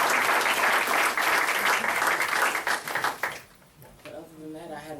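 Audience applause at a school board meeting, a dense roar of clapping that holds loud for over three seconds, then fades into a quieter room where a voice begins speaking.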